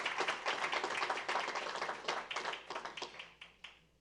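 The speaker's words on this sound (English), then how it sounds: "Let's give all of our students another round of applause for all of their accomplishments." A room applauds students at a New Orleans public schools event, with dense, close clapping that goes on steadily before thinning into scattered claps at the end.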